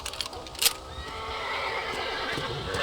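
Horse whinnying in the Red Dead Redemption video game, a short neigh in the first second with a sharp burst near the middle, followed by a steady mix of background game sound, moderately loud with no talking.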